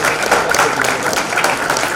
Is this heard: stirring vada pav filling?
no